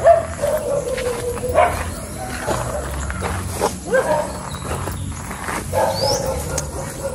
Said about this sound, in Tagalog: So may aso lang.